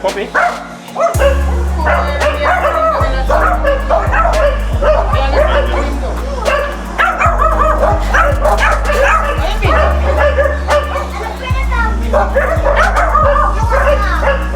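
A puppy barks and yips in repeated quick bursts throughout, loud and close, over steady music with voices talking in the background.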